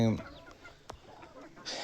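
Hens clucking in a poultry shed, soft scattered clucks and a brief rustle over a low, steady background, faint and close.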